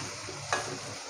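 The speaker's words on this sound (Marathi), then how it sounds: "परतून झालं की आपण हा बारीक चिरलेला कांदा टाकू." Finely chopped onion fries in a pan over a fairly high flame, a steady close sizzle with two brief scraping stirs of a spoon.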